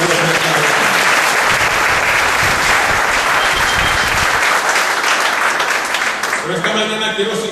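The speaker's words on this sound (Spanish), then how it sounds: "Den un aplauso a la palabra de Dios." A church congregation applauds loudly in a full, sustained burst of clapping for several seconds, fading as a voice begins speaking at the end.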